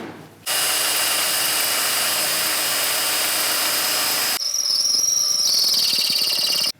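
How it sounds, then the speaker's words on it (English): Power drill boring pinning bolt holes for a RAM 1500 DS front bumper install, a loud steady whine close by that cuts off and gives way to a shifting higher-pitched grinding, no talk. "I've got my pinning holes drilled."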